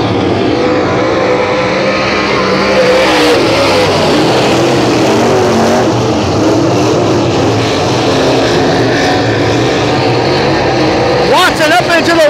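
Race cars roaring around Baton Rouge Raceway under green flag, a loud continuous wash of engines from the pack, with an announcer talking over the noise throughout.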